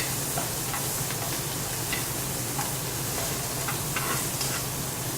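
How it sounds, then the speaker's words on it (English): Steady, crackling sizzle of sausages frying in a hot pan, continuous and fairly quiet, with occasional small pops. "So all we want is some quick frying, and then we take them out"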